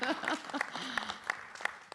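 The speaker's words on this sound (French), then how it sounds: "Applaudissez pour vous-même." Audience applause at the Blue Africa Summit 2025, a short burst of scattered clapping from a conference crowd, with a voice speaking over it.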